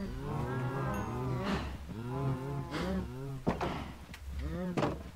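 Cows in the Minecraft video game moo repeatedly, several drawn-out low calls in a row with short gaps, fairly close and clear, with knocking thumps between them.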